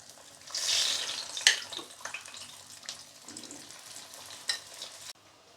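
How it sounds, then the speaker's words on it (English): Pork belly deep-frying in medium-hot oil on a gas hob gives a soft bubbling sizzle broken by a few sharp crackles and pops, moderately close and fairly quiet. "we are going to use a medium heated oil to deep fry our pork"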